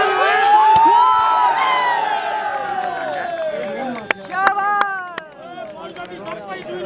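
A crowd at a volleyball quarterfinal cheers and shouts, with scattered sharp claps and thuds, while the lively voices gradually ease.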